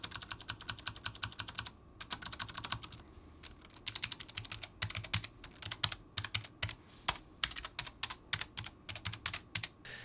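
Rapid typing on a Logitech G915 wireless gaming keyboard fitted with GL Clicky switches gives steady bursts of sharp, close clicks in quick runs with short pauses between them, and no talk.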